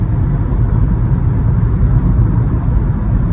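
Interior road roar of a Mercedes with a 5-speed automatic cruising on the highway in manual mode, a loud, steady broadband rumble without shifts or voices.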